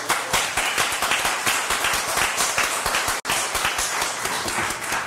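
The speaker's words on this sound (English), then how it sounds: "Round of applause." Steady, dense applause fills a city commission meeting chamber in Boynton Beach, loud and continuous from start to finish apart from one abrupt split-second dropout.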